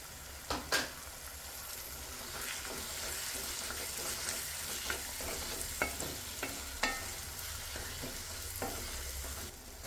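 Spices and onions in a pan for chicken curry are stirred and fried with tomatoes, a steady close sizzle under scattered spoon scrapes and clinks against the pan.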